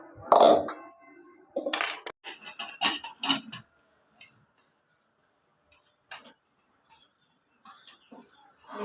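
Metal lid set onto a cooking pot while potato mutton curry cooks in a home kitchen, a couple of sharp clinks and taps among scattered clattering, with a voice speaking briefly at the start.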